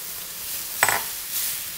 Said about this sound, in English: So now I'm going to go ahead and add my cooked garbanzo beans to this.